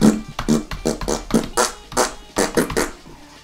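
A man imitates fart sounds with his mouth, a fast series of about a dozen loud, wet, buzzing bursts of uneven length, close and unaccompanied.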